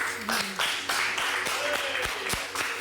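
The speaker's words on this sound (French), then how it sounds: "On peut l'applaudir, s'il vous plaît?" An audience applauds a volunteer joining a card-trick magic act, a short burst of clapping with a few sharp distinct hand claps, while voices chatter underneath.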